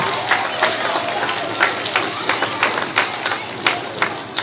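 Applause from a school assembly audience, a dense steady patter of many hands clapping at moderate distance, with scattered sharper claps and faint voices mixed in.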